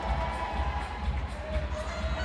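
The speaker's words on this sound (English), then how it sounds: "You can hear the crowd going wild" Crowd at a youth climbing championship in Helsinki cheering and shouting steadily, a dense roar of many voices that holds throughout without breaks.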